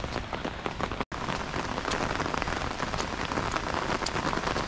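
Heavy rain pours down in a village in Sikte Majhergram, Hooghly, a dense, loud, continuous patter of drops on surfaces with one brief dropout near the start and no voices.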